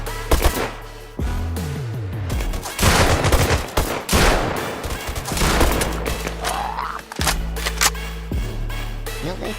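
Rapid gunfire in a shooter video game: dense volleys of sharp shots and bursts crack repeatedly, loud and close, with brief pauses between flurries over a low backing hum.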